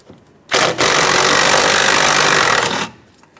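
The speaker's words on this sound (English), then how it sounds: "Use a 13mm socket and unbolt the two mounting nuts." Power tool with a 13mm socket spinning off a brake master cylinder mounting nut on a 2003-2009 Dodge Ram 2500, a loud, harsh buzzing burst of about two seconds, starting with a brief stutter, then stopping abruptly.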